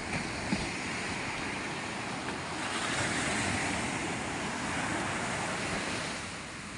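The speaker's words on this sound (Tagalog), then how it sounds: "Ayan ang ating alon, di ba?" Ocean waves surge and wash steadily along a shore where fishing boats are gathered, a broad continuous roar with wind noise on the microphone and no speech.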